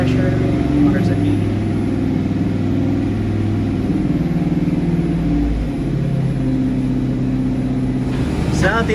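A 5.3-liter LS LM7 V8 runs on a dyno with a steady, loud low rumble that holds constant throughout with slight shifts in tone. Brief clicks are heard near the start and end.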